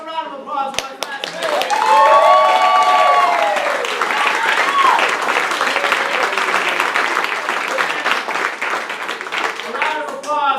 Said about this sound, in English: Please give a round of applause for my class.